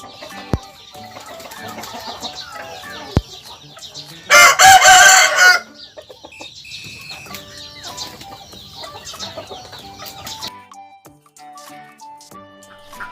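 A rooster crows loudly once in the middle, a long harsh call, with softer clucking and other farmyard bird chatter before and after.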